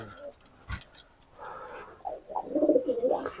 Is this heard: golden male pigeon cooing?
yes